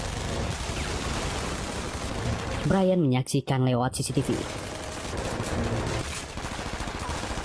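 Sustained gunfire riddles a car in the action film THR Courier, steady broadband bursts running throughout beneath a narrator's voice.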